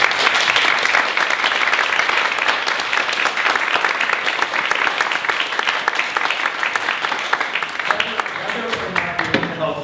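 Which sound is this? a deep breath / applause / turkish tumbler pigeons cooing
applause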